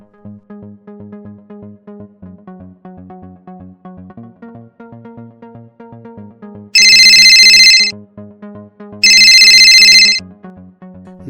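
A phone ringtone plays as a repeating melodic tune, with two bursts of bright electronic ringing cutting in, loud and close.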